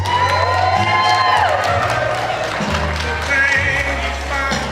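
At a reunion celebration, a crowd cheers and applauds a couple's first dance. The cheering is loud and continuous, with music running underneath for the whole stretch.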